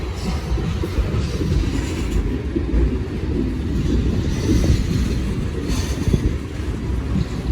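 Freight train of hot asphalt tank cars rolling past, a loud continuous rumble with rhythmic wheel clatter and faint squeals, close and steady throughout with no voices.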